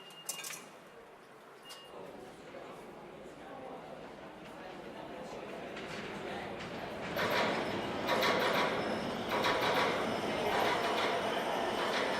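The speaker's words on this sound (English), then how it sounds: "Manhattan-bound E Express train." A Manhattan-bound E Express subway train rumbles and clatters along the tracks, growing louder partway through, with a voice heard faintly over the noise.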